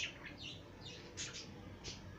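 Pet parakeets from a hybrid pair bred in Australia, calling indoors with a string of high, squawky chirps close by, overlapping in quick succession against faint background noise.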